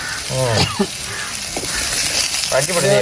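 Garlic sizzles steadily in a hot pan, a constant crackling hiss under a person talking intermittently close by.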